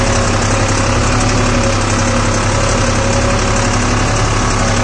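Deutz Fahr Agrolux 50 tractor engine idling, a loud, steady diesel rumble with a low, even throb heard up close and alone for several seconds.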